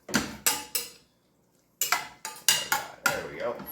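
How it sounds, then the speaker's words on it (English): Chicken stirred into a peppery pasta sauce in a pan gives scraping, clattering strokes in quick bursts, a short pause, then another run of steady stirring, close and fairly loud. "Go ahead and stir this in."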